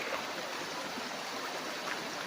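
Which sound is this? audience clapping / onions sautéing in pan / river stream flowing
river stream flowing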